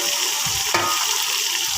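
Tomato, green chili and potato frying in a pan as they are stirred, a steady close sizzle with a single scrape partway through.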